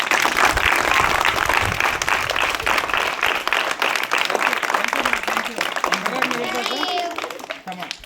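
Schoolchildren at a tribal village school clap loudly together in a dense, steady burst of applause that thins toward the end, with voices mixed in.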